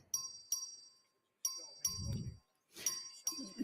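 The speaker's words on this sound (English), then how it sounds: "The clerk will ring the bell." Voting bell in the Texas House chamber rung by the clerk, a series of bright metallic dings struck in uneven clusters with short ringing decays, close and clear, with a brief low murmur between strikes.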